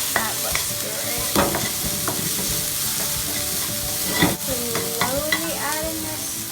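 Spaghetti squash sizzles steadily in a hot pan while being stirred, with repeated scraping strokes over a dense, continuous frying hiss close by.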